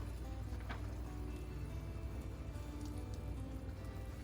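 Black pepper is stirred into steak in a hot pan for Jamaican pepper steak, with a steady, even sizzle and crackle of frying meat throughout and a faint clink partway in.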